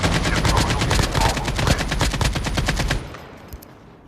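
Rapid automatic gunfire in a video game, a loud sustained burst of evenly spaced shots for about three seconds that cuts off into a fading tail with one faint later shot.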